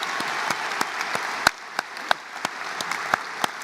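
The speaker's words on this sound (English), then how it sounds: "A round of applause for these 3 scholars." Scattered audience applause at a high school graduation ceremony, a moderate patter of hands punctuated by several sharper individual claps at irregular intervals.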